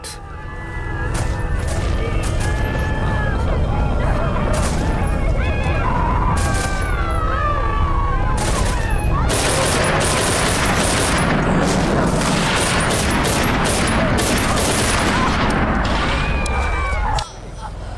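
Enemy gunfire in the video game Velvet Assassin, a steady barrage of sharp shots and bursts with booming impacts, loud and continuous, mixed with game music and voices speaking over the action.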